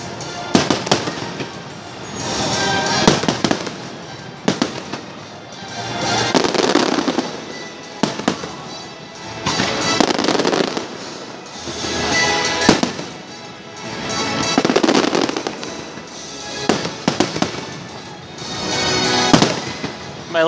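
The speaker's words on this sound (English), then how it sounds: "Watching literally thousands of dollars worth of explosives." A large fireworks display at a theme park, with repeated booming bursts and crackling volleys rolling in waves every few seconds, loud and reverberant in the open air.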